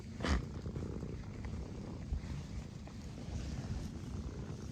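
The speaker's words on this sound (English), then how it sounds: "He's purring like crazy." A cat purrs steadily and close up, a low continuous rumble with a soft rustle near the start.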